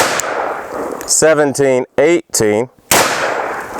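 Loud 10mm Underwood 135-grain rounds fired from a Glock fitted with a 6.5-inch KKM barrel crack sharply at close range, with someone speaking between the shots.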